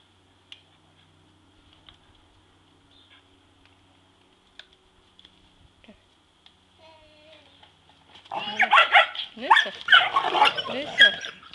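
Near silence with faint ticks gives way to a puppy's burst of loud, close, yapping barks and whines over the last few seconds.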